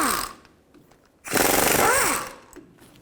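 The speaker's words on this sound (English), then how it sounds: "Now I'll take these bolts out, use a 15mm socket." A 15mm socket backs out oil pan bolts on a 2000-2006 Chevy Tahoe, a loud continuous ratcheting rattle of about one second after a brief quieter clicking, with faint scraping around it.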